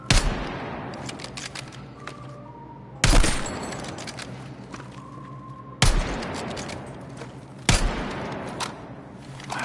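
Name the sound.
gunfire from a recoiling weapon in the video game Battlefield 6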